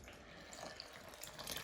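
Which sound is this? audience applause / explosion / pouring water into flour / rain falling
pouring water into flour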